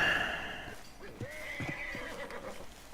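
A video game horse whinnies with a rising, wavering call while hooves clip-clop nearby at a moderate level.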